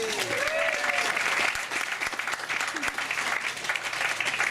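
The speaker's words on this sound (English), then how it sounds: "that definitely deserves an applause" Wedding reception guests applaud steadily for about four and a half seconds, a dense crowd clapping at close range, with some faint voices mixed into the noise.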